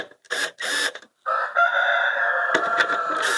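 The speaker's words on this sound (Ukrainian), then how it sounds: "У нас тут півні співають." Roosters crow loudly and close by in a village, several drawn-out calls following one another, with short clucking bursts near the start.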